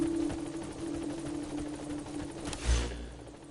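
A helicopter in the video game Metal Gear Solid V: The Phantom Pain holds a steady rotor and engine drone throughout, with a louder whooshing swell near the end.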